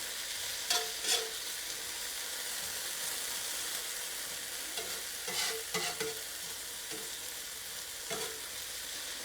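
Food for a bacon, egg and potato breakfast burrito, seasoned with salt and pepper, sizzles steadily in a pan, with a few clear scrapes and clinks as it is stirred.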